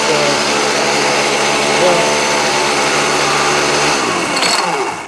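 A Homelite D3850B chainsaw with a dull used chain runs steadily at high revs, a loud continuous buzzing engine drone that drops off near the end.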